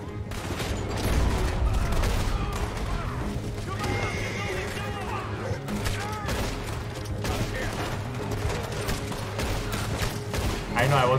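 Gunfire in Red Dead Redemption 2 during a mission: repeated loud shots crack out steadily across a noisy scene, with horses whinnying and a voice talking over it.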